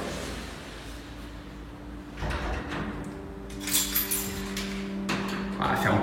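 A heavy, stiff apartment entrance door is forced open in a few scraping, thudding pushes, the loudest around the middle, with people talking nearby.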